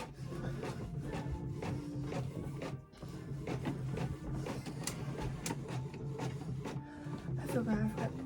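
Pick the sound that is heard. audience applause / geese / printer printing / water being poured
printer printing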